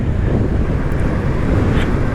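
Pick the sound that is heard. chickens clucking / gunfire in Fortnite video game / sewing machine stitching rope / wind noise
wind noise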